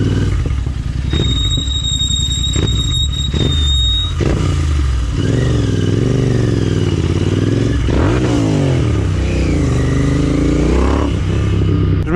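Motorcycle riding while lane-splitting through traffic in France, its engine droning loud and close throughout, rising and falling with revs, with a high whine and clatter early on.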